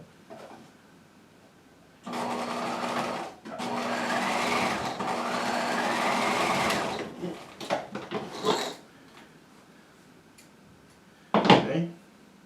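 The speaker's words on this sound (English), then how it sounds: "Alright, I'm at my sewing machine. I'm going to go ahead and stitch center back at 1/2 inch." Sewing machine stitching the center back seam of a jacket hem facing at a half-inch allowance, running in two steady bursts of a few seconds each, followed by fabric handling and brief rustles.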